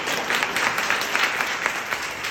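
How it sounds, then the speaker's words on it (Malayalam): Steady applause from a gathered audience welcoming first-time newcomers, dense and sustained, with individual claps poking through the wash. "പുലിമടയിലേക്ക് കയറി വന്ന എല്ലാവർക്കും നല്ലൊരു കയ്യടി കൊടുക്കണേ."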